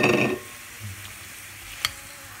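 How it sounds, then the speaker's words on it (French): Minced meat dropped into a pan of onions softening in olive oil gives a loud, brief burst of sizzling and stirring, then settles to a quiet low sizzle. "Là, je vais mettre en même temps ma viande hachée."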